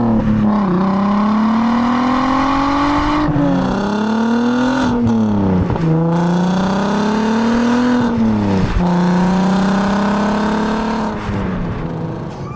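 A VW Golf R32 Mk5 V6 engine revs loudly and close, its pitch rising and falling through several throttle blips in a continuous, unbroken engine roar.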